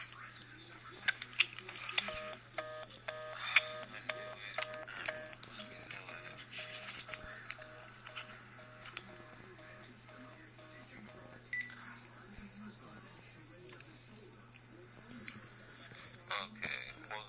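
Telephone dialing tones beep in quick rhythmic bursts, short clusters of keypad tones repeating for several seconds under low background hum and occasional talk.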